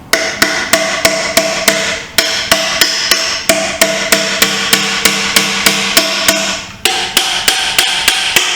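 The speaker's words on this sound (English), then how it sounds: "couple little whacks there. Let's bump it." Hammer whacks on an engine cylinder of a neglected Chevy C10 pickup, a long run of sharp, loud metallic strikes at a brisk steady rhythm with brief pauses, close up and with no talk.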